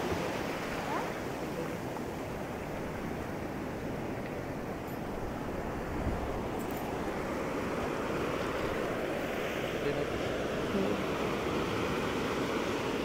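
Sea waves wash onto the beach at Mandarmani in a steady, continuous roar of surf with some wind rumble, loud and unbroken throughout.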